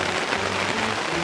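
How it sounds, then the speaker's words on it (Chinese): Heavy rain pours steadily at the H&N campsite in Port Dickson, a dense, even hiss of drops striking surfaces with no pauses and no voices. "大雨啊"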